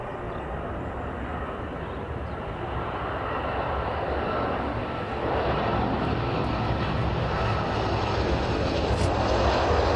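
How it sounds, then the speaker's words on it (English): Ryanair airliner landing at East Midlands Airport at sunset, a steady, loud engine roar with broad rushing noise that swells slightly as it nears, heard alone without voices. "the first aircraft in then, the Ryanair"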